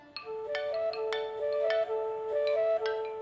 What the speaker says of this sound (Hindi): बेबी मेरा फोन बज रहा है, फोन उठाओ ना